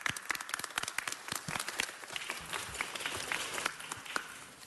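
Audience applause for the Consul General, Ms. Lopez Peña, at a Salvadoran consulate event: dense, steady clapping from a crowd filling the whole clip at moderate level.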